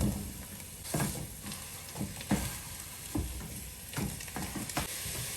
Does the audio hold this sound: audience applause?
no